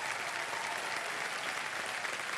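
A TV quiz show studio audience breaks into dense, continuous applause, an even roar of many clapping hands with no pauses.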